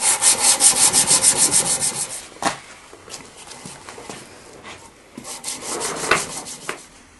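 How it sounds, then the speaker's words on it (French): A forged sword blade is sanded in rhythmic back-and-forth strokes, loud and close at first, then sparser scrapes and rubs with pauses. "la lame, elle est terminée, on l'a poncée jusqu'au grain 800"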